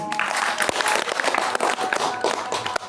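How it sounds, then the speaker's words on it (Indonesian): An audience at a community gathering in a temple pavilion applauds steadily, dense clapping from many hands filling the whole stretch at a loud, even level. "Tepuk tangan dulu."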